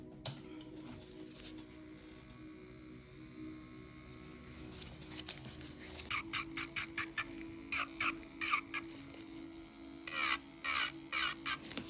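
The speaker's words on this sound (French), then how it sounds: "je vais limer les bords. Je vais utiliser ma ponceuse." Electric nail sander filing the edges of gel nails, a faint whirring hum broken by short rhythmic rasping strokes that grow louder and more frequent toward the end.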